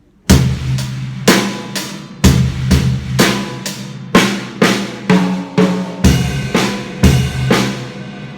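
A pop rock drum solo on a kit plays loud and close, with punchy kick and snare hits and crashing cymbals in a driving, regular pattern of fills, with no voices.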